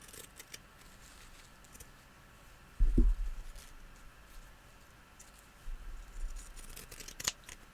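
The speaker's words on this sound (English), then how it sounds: "At least the scissors are actually working again." Quiet snips of scissors cutting, with a louder thump partway through and a few soft crisp clicks near the end.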